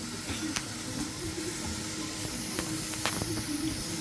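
Steady broadband hiss of steam fills the whole stretch, continuous and fairly close, with a few brief sharper bursts and clicks over it and no talking.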